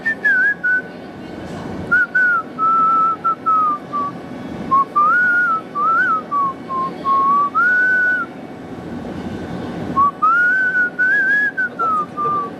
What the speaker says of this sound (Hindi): अपना सीटी बजा रहा है